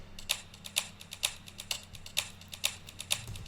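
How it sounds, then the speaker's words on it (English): A ticking clock sample, processed with EQ, delay and reverb in FL Studio, gives sharp, regular clicks at about two per second over a low hum, close and fairly faint, with no talking. "starting with the ticking clock"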